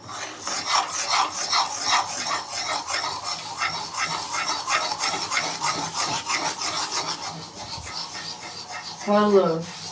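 A spoon scrapes and rasps steadily as a sesame-and-jaggery tilgul mixture is stirred around a pan, a continuous rhythmic rubbing with people talking over it.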